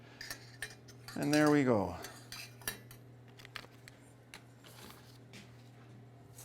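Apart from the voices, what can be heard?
stirring wet oatmeal stout bread mixture in bowl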